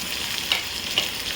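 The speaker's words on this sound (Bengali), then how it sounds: "পেঁয়াজটা সুন্দর ভাজা ভাজা হয়ে এসছে, এবারে আমি টমেটো আর এই কাঁচা লঙ্কাটা দিয়ে দিলাম" Tomatoes and green chili sizzle in a pan of well-fried onions, a steady close frying hiss with two sharp stirring scrapes.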